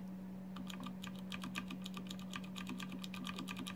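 Rapid, steady typing on a mechanical keyboard with Cherry MX White switches, each keystroke giving a light, crisp click at close range over a constant low electrical hum, with no voices.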